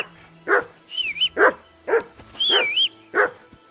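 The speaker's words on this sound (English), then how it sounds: "Whistle at that mutt of yours to stop barking." Dog barking in Kingdom Come: Deliverance II, several sharp barks in an uneven rhythm close by, mixed with whistles and a voice talking between them.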